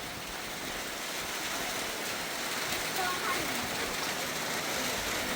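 Rain pours at a rice-field hut, a constant close hiss of drops on surfaces that holds steady from start to finish.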